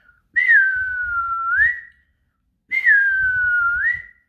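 A person whistles two near, clear, sustained tones, each gliding down then rising at the end, with a pause between them and no talk.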